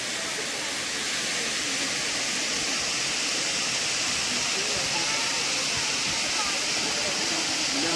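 Water rushing steadily at Thusharagiri waterfall, a broad, constant roar that stays loud and even throughout with no break.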